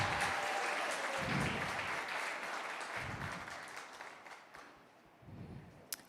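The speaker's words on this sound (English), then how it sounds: "let's give these girls a big round of applause" An audience at a 7th grade graduation and academic awards ceremony applauds steadily and fairly loudly in a hall, the clapping thinning and fading toward the end before a brief last flurry.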